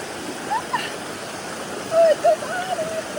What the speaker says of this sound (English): Last night it rained so hard and the water is very strong.